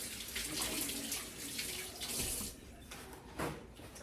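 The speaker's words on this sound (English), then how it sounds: "Give my hands a quick wash again." Hands rinsed under a running kitchen tap, a close, steady rush of water with splashy surges as the hands move through the stream, no one speaking.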